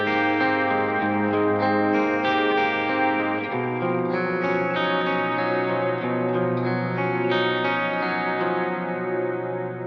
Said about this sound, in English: Let's just add the Keeley Halo in the Halo setting.